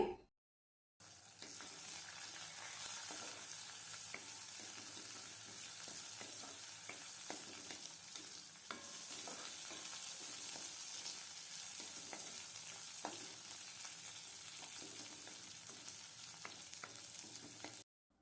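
Spices sizzle and fry steadily in a hot pan as ginger pieces are added for ginger chutney, a continuous close crackling hiss with occasional stirring clatter, lasting nearly the whole stretch without talk.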